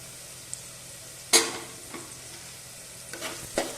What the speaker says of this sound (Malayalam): ഇനി നല്ലപോലെ മിക്സ് ചെയ്തെടുക്കാം മിക്സ് ചെയ്ത് പൊടികളുടെ പച്ചമണമൊക്കെ ഒന്ന് മാറി വരുന്നത് വരെ ഇളക്കി കൊടുക്കാം